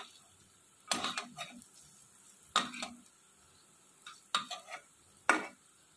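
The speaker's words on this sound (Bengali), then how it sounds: "চিকেনগুলোর একদিকটা ভাজা হয়ে গেলে আমি এভাবে উল্টে নেব।" Chicken pieces frying in a wok for street-style chow mein, with four sharp clattering bursts as they are turned, each followed by a brief sizzle over a quiet background.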